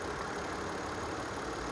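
A car engine running steadily while being listened to closely to diagnose an engine noise, a continuous broadband hum and rumble with no talk over it.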